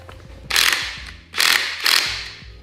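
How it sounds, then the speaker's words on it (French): A ratchet wrench clicks in three quick bursts as the shock absorber top mount nut comes off a BMW M3 Competition, loud and close with short pauses between pulls. "il commencera par démonter la coupelle de l'amortisseur en retirant son écrou supérieur"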